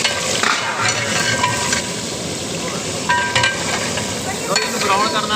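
Onions frying in hot oil fill the pan with a steady, loud sizzle and crackle, with occasional stirring scrapes and clinks cutting through.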